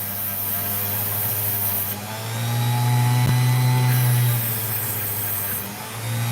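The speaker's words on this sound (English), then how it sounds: "There's just this particular kind of scraping noise you hear when you've got a good opal on there." An opal grinds against a spinning cutting wheel, giving a steady, loud, whining drone with a rough scraping edge that swells in the middle and then eases off, close up with no talk.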